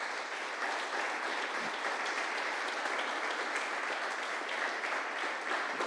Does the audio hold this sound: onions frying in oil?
no